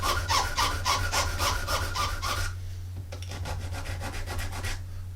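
Sanding along the edge of a small model part clamped in a vise: rapid, rhythmic back-and-forth rasping strokes, close and fairly quiet, in two bursts with a short pause between, over a low steady hum.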